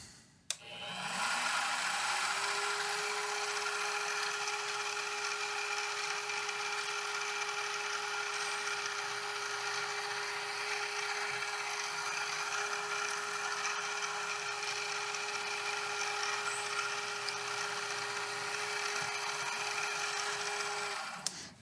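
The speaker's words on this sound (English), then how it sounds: "I'm going to drill the pass-through" A drill whirs steadily and loudly for a long stretch drilling a pass-through hole in metal for a framelock knife, a constant high mechanical whine with a grinding edge, starting and stopping abruptly, no talking.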